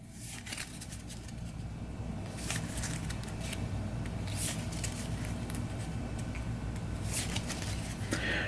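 A deck of Star Realms cards gets a quick shuffle at close range, with steady papery riffling and soft flicking that runs throughout, with a few sharper snaps near the end.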